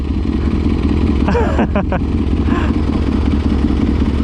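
Ducati S1000 motorcycle engine running on a trip in Chaiyaphum, a loud, close, continuous rumble throughout, with a brief voice-like sound cutting over it early on.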